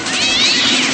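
A single drawn-out cat meow, close and loud, with a whining, wavering tone that fills the whole second with no other sounds.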